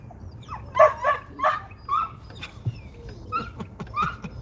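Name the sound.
dog barking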